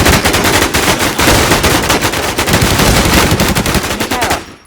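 Sustained automatic gunfire in a video game, dense rapid bursts of close, loud shots firing almost without pause before cutting off at the end.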